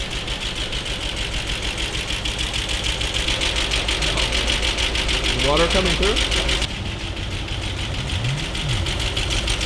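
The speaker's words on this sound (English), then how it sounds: "we got the car running" An abandoned 1965 Ford Mustang engine runs with a steady, rapid mechanical chatter that continues throughout, as people talk briefly over it.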